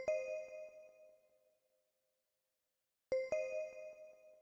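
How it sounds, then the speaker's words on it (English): Purity's Breath Bell 1 synth preset plays a short bell phrase for a dark plugg beat, bright tones that ring out, fade to near silence, then return; quiet and alone. "I'm using the breath bell 1 preset."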